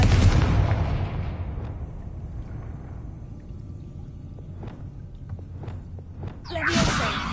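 A Confringo blast spell goes off in a Harry Potter video game, with a loud, heavy explosion that rumbles and fades over a few seconds, followed by faint taps and a second bright burst near the end.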